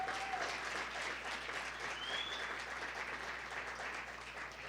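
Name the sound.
congregation applauding in church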